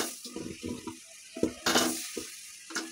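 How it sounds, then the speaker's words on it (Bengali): Water poured onto sugar in a cooking pot, with splashy bursts and a soft sizzle in several short uneven pulses, close and fairly quiet. "আর দিয়ে দিব সামান্য পরিমাণে পানি।"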